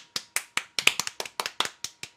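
A quick run of about eleven sharp hand claps in a fairly even rhythm, close and crisp, with no voices in between.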